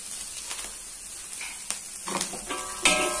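Wilted cabbage and vegetables sizzling in a pan for mi goreng with ground pepper, stirred in short scraping bursts that grow louder toward the end, close up with no talking.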